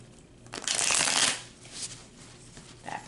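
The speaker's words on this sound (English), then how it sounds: "Okay, one more shuffle." Tarot cards being shuffled, a single crisp riffling burst in the middle followed by a few softer papery shuffles, close and alone.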